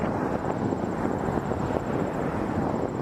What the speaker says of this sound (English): clear for takeoff, runway 23, Air Canada